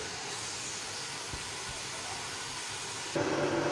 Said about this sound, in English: I will be frying it till the onion turns golden.